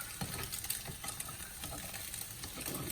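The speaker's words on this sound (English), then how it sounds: "Listen to that sound, guys. Hear the sizzle? You hear it sizzling like that, Mac?" Steady crackling sizzle of scrambled eggs frying in a pan, with occasional scraping stirs, close and continuous with no talking.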